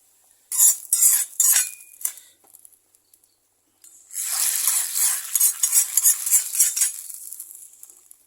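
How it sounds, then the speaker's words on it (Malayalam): Hot tempering oil is poured into mango pulissery curry, giving a few sharp crackles, then a loud burst of frying sizzle that fades gradually, with no talking. "ഇനി നമുക്കിതിലേക്ക് നമ്മുടെ എണ്ണ തളിച്ച് ഒഴിച്ചു കൊടുക്കാം"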